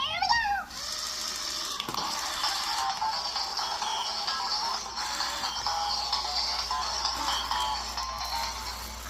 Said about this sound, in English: It's literally the same Zhu Zhu Aquarium dance sound.